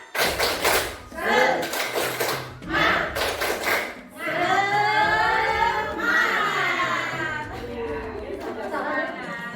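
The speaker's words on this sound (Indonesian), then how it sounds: "Tepuk semangat." A group in an Indonesian classroom performs the tepuk semangat spirit clap, with bursts of rhythmic clapping in quick clustered patterns followed by voices chanting and talking loudly together.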